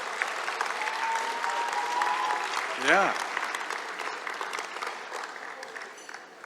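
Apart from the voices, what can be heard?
audience applause at awards ceremony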